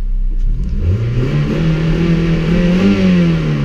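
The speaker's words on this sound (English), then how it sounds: "I will rev it for you." A nearby Toyota Celica 1.8 VTi 143 hp engine running on LPG revs up from idle, its drone climbing smoothly and holding high, loud and steady.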